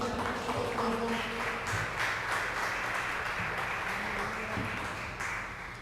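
A church congregation applauds the Lord during a worship service, a dense, sustained wash of clapping over a low music bed, steady and moderately loud throughout.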